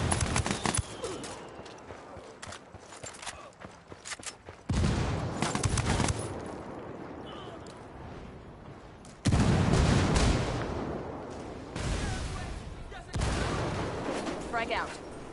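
A grenade blast and bursts of rifle fire in the tactical shooter Ghost Recon Wildlands, with loud broadband explosions and gunfire jolting in at several points over a continuous rumble of in-game combat.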